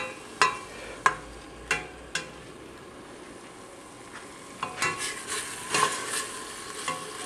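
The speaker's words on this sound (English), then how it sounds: "This is our celery, our garlic, and our carrots. Just got this cooking away here." Celery, garlic and carrots sauté in a pressure cooker pot, a soft steady sizzle broken by several sharp scraping stirs of a utensil against the pot, close and without talk.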